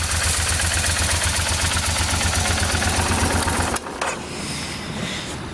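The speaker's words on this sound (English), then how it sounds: "But with the fuel injection, it cranks up easily, runs real good." A fuel-injected 2007 Kawasaki Vulcan 1600 Nomad with fairing runs close by with a loud, steady pulsing engine note, then drops abruptly to a quieter, rougher sound near the end.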